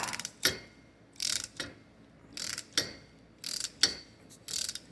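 Ratcheting clicks and metallic creaks come in repeated bursts as a gear puller is cranked to draw a part off the shaft of a Toro gear case, with short pauses between strokes, up close.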